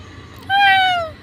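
A single clear, loud cat meow, drawn out and slightly falling in pitch, close by in an otherwise quiet space.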